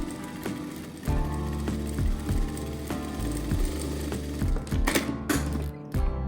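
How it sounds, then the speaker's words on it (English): A sewing machine stitching a row along a fabric sleeve hem, a close steady mechanical whirring with rhythmic needle thumps, pausing briefly and restarting near the end. "Sew a row of stitching to make it easier to fold and press the edge neatly."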